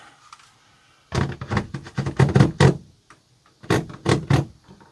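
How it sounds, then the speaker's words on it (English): A door slides and thumps shut in a series of loud, clattering knocks and bangs, two bursts of rattling impacts with a short pause between, close by and without talk. "Shut the door."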